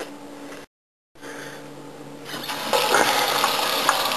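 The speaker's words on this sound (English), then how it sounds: "I'm gonna go ahead and add some water." Water poured into a glass of homemade lemonade, a brief gap followed by a steady, rising rush of liquid that grows louder as the glass fills, with no talking.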